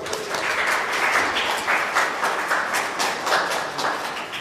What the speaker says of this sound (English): A good clapping for you people.